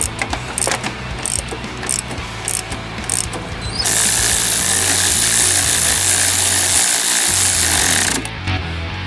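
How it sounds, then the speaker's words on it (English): A power tool, likely an impact wrench, drives motor mount bolts on a Jeep Grand Cherokee with a 5.7 HEMI in a driveway, a loud continuous rattling burst of about four seconds after several short taps. "Snug everything, and then you come back and then you torque it all down."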